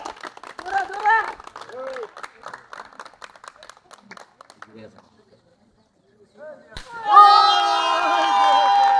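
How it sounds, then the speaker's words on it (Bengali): Village audience clapping in scattered bursts at a blindfold pot-breaking game, mixed with people talking, before loud tonal music takes over near the end. "তালি দাও তালি দাও তালি দাও"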